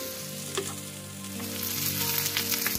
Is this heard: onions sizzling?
yes